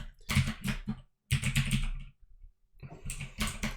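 Typing on a computer keyboard while entering code for an Arduino sensor project: three close bursts of rapid key clicks separated by short pauses, with no talk.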